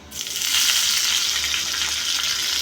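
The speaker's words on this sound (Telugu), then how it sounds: "ఈ చట్నీకి ఇప్పుడు ఒక తాలింపు పెట్టుకుందాము." A tempering of spices, dried red chillies and curry leaves in about two spoons of oil bursts into a loud, bright sizzle that swells and holds steady for a couple of seconds, for a hotel-style coconut chutney.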